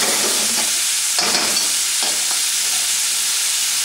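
Pork, bamboo shoots and mushrooms sautéing in a wok for hot and sour soup, a steady loud sizzle with a few brief bursts of stirring and scraping early on, no talking.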